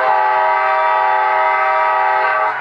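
An HO scale model train's K5LA horn, Amtrak style, sounds one long, loud, steady multi-tone chord, blaring close by for a couple of seconds before it cuts off.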